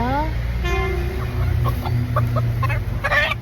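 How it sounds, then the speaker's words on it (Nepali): A rooster crows near the start, followed by short clucks and a few horn-like toots over a steady low hum, with the calls fairly close and clear. "यहाँ चाहिँ हाम्रो भाले छ"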